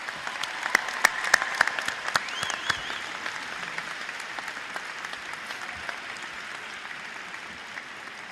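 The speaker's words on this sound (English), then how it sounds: "Graduates, please join me in taking this time to applaud, acknowledge, and more importantly, thank those that have got us here today" Graduates at a Michigan State University student convocation applaud their families, a broad, moderately loud sustained clapping from a large crowd with a few sharper near claps early on, then settling into an even steady wash.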